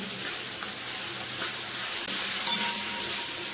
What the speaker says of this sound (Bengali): টমেটো বাটাটা ভালো করে কষিয়ে নেব, যতক্ষণ না তেল ছাড়ছে ততক্ষণ কষিয়ে নেব